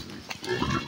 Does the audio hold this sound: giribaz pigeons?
no